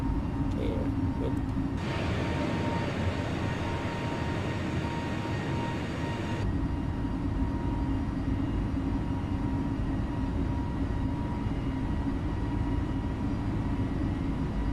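Steady drone of an airliner's engines climbing after takeoff from Cayenne in Microsoft Flight Simulator, a constant broadband roar with a faint tonal whine, unbroken for the whole stretch.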